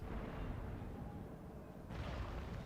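Cannon fire from Empire: Total War with the Dutch under enemy cannons: a dense, continuous rumble of booming artillery, loud and sustained throughout, with no voices.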